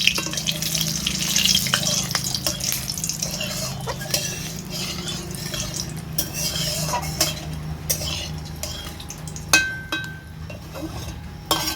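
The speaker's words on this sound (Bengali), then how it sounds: "তেল গরম হয়ে গিয়েছে, এবার এতে আমি দিচ্ছি শুকনো লঙ্কা, সাথে গোটা গরম মশলা। সব কিছু একটু নেড়ে করে দিচ্ছি।" Dried red chillies and whole garam masala stirred in hot oil for an egg masala curry, with a continuous sizzle, metal utensil clinks and scrapes against the pan, and a few sharper knocks, close up and with no talking.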